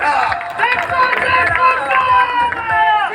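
A large crowd at a political rally in Sindh sends up loud, continuous cheering and chanting voices. The dense roar holds steady throughout, and no separate clapping stands out.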